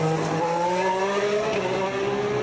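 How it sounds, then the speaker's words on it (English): A 2015 Ferrari Formula 1 car at pre-season testing at Jerez, its engine screaming at a high rising pitch and shifting up through gears, steady and loud throughout. "it was the first time for Sebastian Vettel to drive the new Ferrari"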